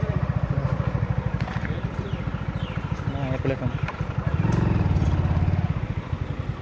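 A motorcycle engine idles close by with a steady low putter while the bike is being parked, rising briefly louder near the end, with someone talking over it.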